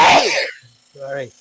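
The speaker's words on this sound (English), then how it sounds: "I'm about to sneeze." A sneeze bursts out loudly at the start, a single sharp explosive breath during a live stream, followed by a short spoken apology.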